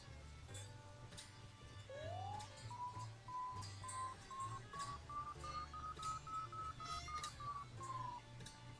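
Electronic variometer beeping in the paragliding simulator ParaSim 3.3, a faint rising tone that climbs and holds in a steady series of short beeps over a low background hum.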